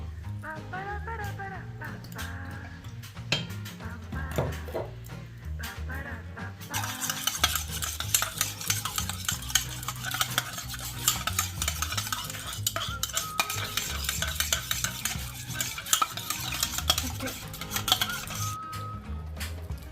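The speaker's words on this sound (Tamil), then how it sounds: "ஸோ நான் மயனீஸையும் கெச்சப்பையும் மிக்ஸ் பண்ணிப்போம்" Mayonnaise and tomato ketchup are mixed together in a bowl for a cheese sandwich. The stirring makes continuous scraping and rubbing, with clinks of a spoon. A busy, dense texture fills the later part.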